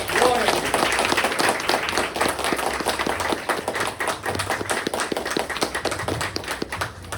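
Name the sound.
church congregation applauding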